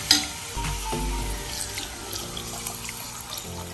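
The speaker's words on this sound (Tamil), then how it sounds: "இப்போ கிச்சடிக்கு தேவையான அளவுக்கு தண்ணி சேர்த்துக்கலாம்." Water splashing from a vessel into a pan of sautéed vegetables in oil for semiya kichadi, a steady rushing pour with gurgles and faint sizzle underneath, close up.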